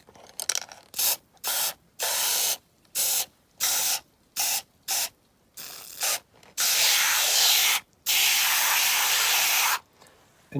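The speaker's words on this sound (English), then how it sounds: "put some oven cleaner on them to take that shine away" Oven cleaner is sprayed in a series of short aerosol bursts onto Corgi No 314 Ferrari Berlinetta 250 Le Mans diecast car parts set in a container, the closely miked hissing blasts separated by brief pauses, with the final bursts held longer.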